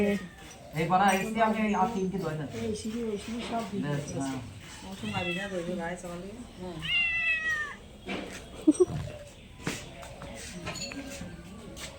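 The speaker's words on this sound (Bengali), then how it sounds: "এ দেখো ম্যাও আসছে ম্যাও আসছে" A cat meows several times, drawn-out and plaintive, while a person talks nearby; a few soft knocks and shuffles follow.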